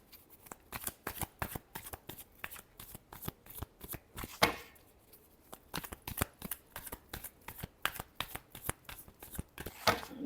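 Tarot cards shuffled by hand, crisp rapid riffling clicks in a steady quick rhythm across the whole stretch, close up and fairly quiet, with no talking.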